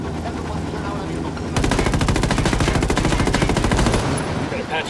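Sustained rapid gunfire from an Apache helicopter in Ghost Recon Wildlands erupts suddenly after a quieter stretch, a loud, dense mechanical rattle that keeps hammering for a few seconds before easing off.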